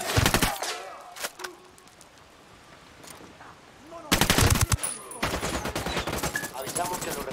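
Gunfire in the video game Ghost Recon Wildlands: short bursts of automatic fire, a quieter lull, then heavy, sustained machine-gun fire with rapid cracks and echoing reports.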